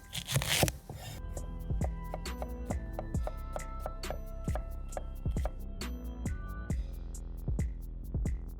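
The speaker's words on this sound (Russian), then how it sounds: "И следом за грудинкой нарезаем репчатый лук." Onions being cut with a knife on a board for goulash bograch, a run of sharp, fairly regular chops, close and clear with no talk.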